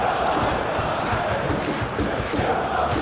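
A stadium crowd in a football video game match in Munich roars continuously, a dense steady wall of cheering and chanting with no individual voices standing out.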